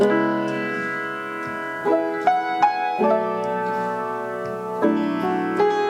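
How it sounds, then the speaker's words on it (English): A roomy gospel piano riff of rich sustained chords, with a few accented stabs repeating in a short loop, no voices. "Great little gospel piano riff, super roomy."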